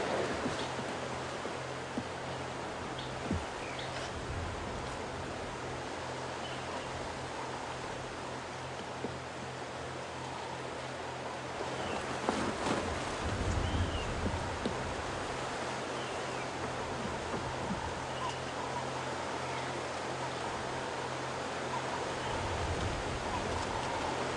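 Wind buffets and roars steadily across the whole stretch during an open safari drive at sunrise, a broad rushing noise with occasional stronger gusts.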